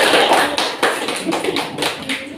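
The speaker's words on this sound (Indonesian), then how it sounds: "kita beri tepuk tangan untuk kelompok 3" Classroom audience clapping for a student presentation group, a loose cluster of nearby hand claps with uneven rhythm, loud and close.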